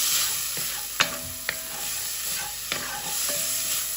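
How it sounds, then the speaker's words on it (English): Vegetables for spaghetti sauce stirred in a hot pan, with a steady sizzle broken by several sharp spoon-against-pan knocks, close and alone. "Give that a mixy mix, stirry stir, tossy toss."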